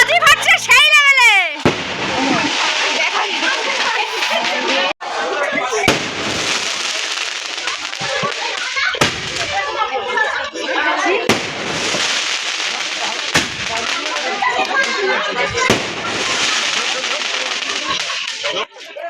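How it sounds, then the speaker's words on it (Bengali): Fireworks burst outside during a birthday celebration, a dense, continuous crackle of pops and bangs with sharper loud cracks, heard under people talking and festive noise nearby. "ওদিকে বাজি ফাটছে সেই লেভেলে।"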